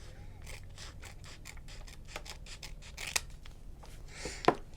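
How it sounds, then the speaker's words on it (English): Close, crisp snips of scissors cutting washi tape and paper for journal decorating, a rapid series of short slicing strokes with a couple of louder cuts near the end. "Nice, satisfying scissor sounds."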